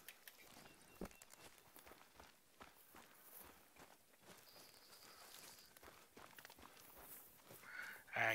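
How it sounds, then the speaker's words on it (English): Quick, light pattering footfalls of a dog running alongside through an outdoor game world, a rapid irregular patter close by, faint and steady. "keep hearing the dog running alongside me"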